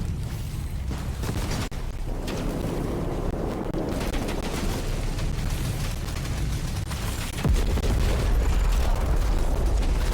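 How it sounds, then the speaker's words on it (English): A sci-fi explosion in the video game Outpost: Infinity Siege sounds as a dense, continuous roaring rumble with heavy low end, loud and sustained, with a deeper boom swelling near the end. "And this time, I looked at the explosion."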